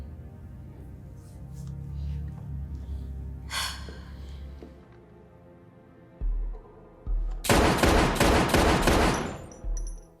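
Gunfire in a tense TV drama scene: after a quiet, rumbling stretch, a rapid string of loud, sharp shots bursts out at the end, closely spaced like a fusillade.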